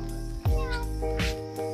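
A person imitates a cat's meow during a hiking outing with dogs, giving a few drawn-out meows one after another, close and clear, amid talking.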